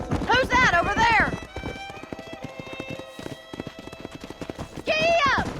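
Galloping horse hooves in the Red Dead Redemption video game, a steady rapid clip-clop running under the middle stretch, bracketed by loud speech at the start and end.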